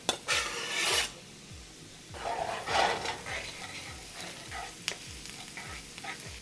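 Garlic hits butter and olive oil in a pan with a bright sizzle, punctuated by rhythmic scraping and stirring strokes, close and fairly loud, without talk.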